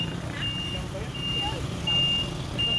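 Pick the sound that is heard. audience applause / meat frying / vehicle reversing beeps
vehicle reversing beeps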